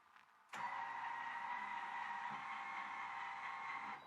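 A Focus Beluga Jet DTG pretreatment machine kicks on abruptly and runs at high speed with a steady, loud mechanical whir and hum, holding constant for several seconds before beginning to fade.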